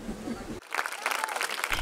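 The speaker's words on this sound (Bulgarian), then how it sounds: "Виртуозните изпълнения на класически музиканти със световна слава бяха аплодирани от публиката, която беше препълнила амфитеатъра в Стария град" An audience fills the old-town amphitheatre in Nesebar with applause after a classical music concert, a dense patter of clapping that cuts in abruptly after a brief stretch of talk.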